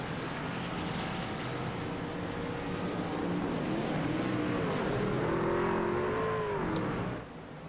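Stock race cars leave pit road at Talladega in a steady, droning engine roar, with revs rising and falling and no talk heard.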